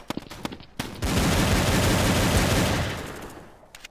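Dual Desert Eagle pistols firing in a mobile first-person shooter game, a few sharp single shots followed by a dense, loud burst of gunfire that swells and then fades away.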